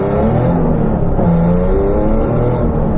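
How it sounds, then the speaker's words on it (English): Nissan 370Z with an exhaust leak, engine revving loudly and close, rising and falling pitch with a raspy, puffing exhaust note held throughout. "We've definitely got an exhaust leak."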